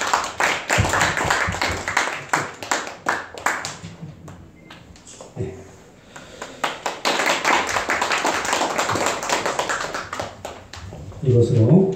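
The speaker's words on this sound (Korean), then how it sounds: "박수." An audience at a church prayer-meeting ceremony claps in rhythmic, sustained applause, loud and close, with a brief lull in the middle before the clapping resumes.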